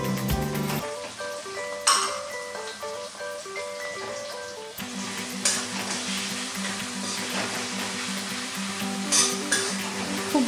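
Onion, ginger and garlic paste sizzles loudly in hot oil alongside fried onions, with a steady crackle, occasional utensil clinks and stirring scrapes; the sizzle jumps as the paste goes into the pan.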